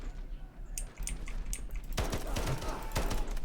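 Gunfire in the online shooter Delta Force, starting with faint scattered clicks, then from about two seconds a denser burst of sharp rapid shots, moderately loud over a steady low game rumble.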